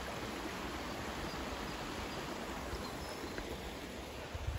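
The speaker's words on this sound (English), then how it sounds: "The water and you know, this calming sound of river." A river flows through a park near a bridge, giving a steady, even rush of water that stays constant throughout with no voices over it.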